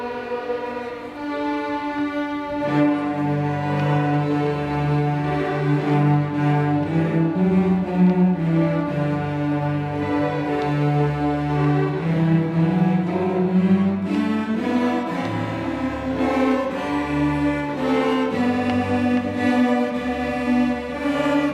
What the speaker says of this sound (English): And Johann Strauss, the waltz king, had written Jingle Bells.